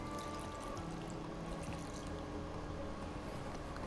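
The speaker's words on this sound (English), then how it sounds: "1 cup of whole milk going in" Whole milk pours steadily into a casserole dish for a few seconds, a constant close liquid rush with no pauses.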